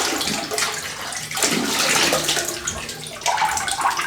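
Water runs and splashes close by as a shaving brush is rinsed, in a few uneven surges of gushing flow with brief dips between them, with no talk.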